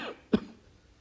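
A father gives a single short cough close by, a sharp burst in an otherwise quiet moment with a faint voice trailing just before it.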